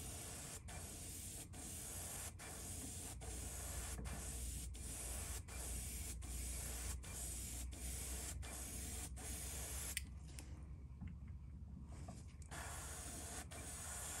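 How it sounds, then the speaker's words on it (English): An airbrush sprays Candy 2-0 paint at low pressure onto a custom bruised purple sunfish S-Crank fishing lure, giving a steady close hiss throughout with short regular clicks. "Still spraying it on 10 to 12 pounds, not a lot."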